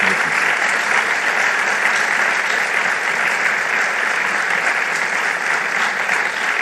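Sustained, dense applause from a large crowd, including police officers, filling the hall after President Macron's speech at the Beauvau de la Sécurité, steady and loud throughout with no pauses.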